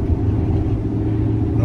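A truck fitted with a Corsa equal-length exhaust drones at a low, steady idle-like rumble, loud and close, with a faint voice talking over it.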